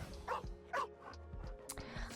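A small dog character in the Marvel Rivals video game lets out a few quick, high yips and whimpery barks in close succession, clear and near over quiet game audio.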